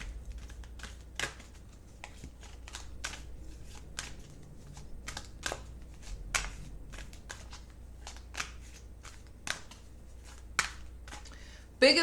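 Tarot cards are drawn from a deck one after another in a quick, irregular series of crisp snaps and flicks, with a faint low hum underneath.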